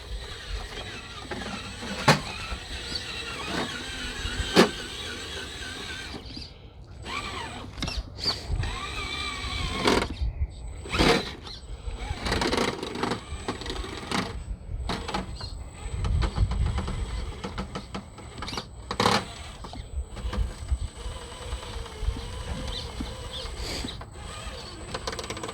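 An Element RC car on a test drive with a new battery tray whirs and whines in loud, uneven bursts, with sharp clicks, knocks and ratcheting rattles from the drivetrain as it starts, stops and bumps along nearby.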